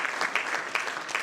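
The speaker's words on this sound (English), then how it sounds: "And I think this deserves a round of applause." A summit audience in Lesotho claps in a brief, dense burst of applause, many hands at a moderate distance, lasting only about a second.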